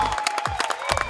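A crowd at the 2019 United States Amateur Disc Golf Championship final applauds and cheers the new champion, a brief burst of clapping and voices mixed with an announcer's talk.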